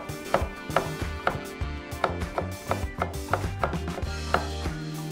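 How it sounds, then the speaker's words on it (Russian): A knife slices a cucumber into thin strips on a board while pibim guksu, a spicy Korean noodle dish, is prepared, a steady run of close chopping taps over background music, with no talk. "Огурец нужно нарезать на тоненькие полоски."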